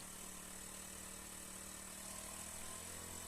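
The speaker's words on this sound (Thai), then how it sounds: "หลังจากนั้นเราก็ทำการสตาร์ทเครื่องยนต์นะครับ เพื่อทำการปั่นไฟนะครับ" A small lawn mower engine converted into a generator runs at a steady idle, a constant droning hum with no change in pitch throughout.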